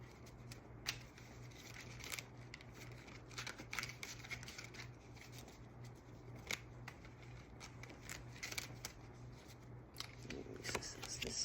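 Quiet, rapid riffling and soft flicks of a deck of playing cards being shuffled by hand, close and faint, with a low steady hum underneath.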